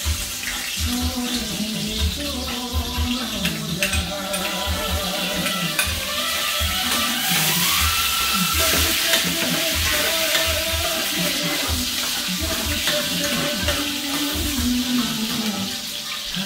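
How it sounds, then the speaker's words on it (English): Chopped onion and okra frying in hot oil, Guyanese home cooking, with a loud continuous sizzle, stirring scrapes and clatter throughout, close up and without talk. "I'm adding my onion now to fry my okra."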